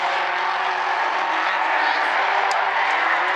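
Bumblebee class race cars circle South Sound Speedway single file out of turn four, their engines blending into a continuous, even roar heard from a distance.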